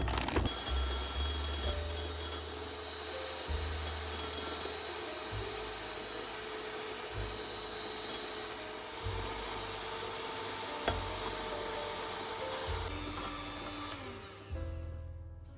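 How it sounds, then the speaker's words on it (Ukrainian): Electric mixer whipping egg whites with sugar gradually added, a steady close whirring drone with slight shifts in pitch as the beaters work. "Поступово всипаючи цукор, безперервно збиваємо."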